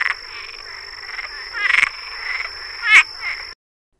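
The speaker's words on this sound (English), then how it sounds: "the Cuban tree frog is found in Cuba, but it's also native to the Bahamas and the Cayman Islands" A Cuban tree frog croaks in a series of raspy, rattling calls, close and fairly loud over a steady high background hum, with no other voices.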